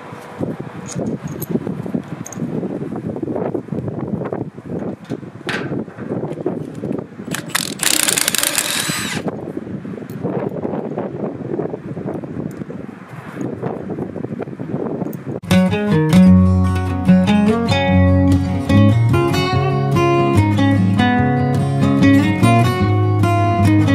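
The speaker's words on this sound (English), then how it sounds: "I'm just gonna take out the bolts." Power tool zipping out the bolts on the knife drum of a Bandit 1290XP drum chipper during a blade and anvil service, heard in short repeated bursts with clattering metal. Partway through, loud music comes in over it.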